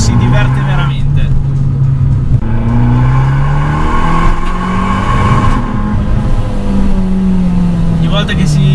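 A small Abarth Biposto 1400 turbo engine pulls hard along narrow, winding roads, its note rising and falling with each throttle press in a steady, loud drone while someone talks over it.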